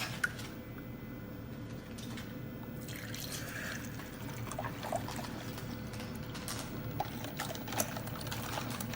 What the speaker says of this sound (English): And let's add some water.